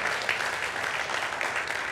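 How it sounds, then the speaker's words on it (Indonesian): Church congregation applauding enthusiastically for the Lord during a worship service, a steady dense wash of many hands clapping throughout, fairly loud and continuous. "Kita beri tepuk tangan yang meriah bagi Tuhan kita."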